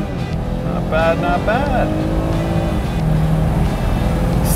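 A 2024 BMW 430i Cabriolet accelerates hard under launch control, its engine rising in pitch through the gears with a loud rushing roar, while a person speaks briefly over it.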